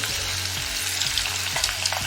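Pork deep-frying in oil in a fryer, a steady loud sizzle and crackle throughout with faint bubbling and no talk.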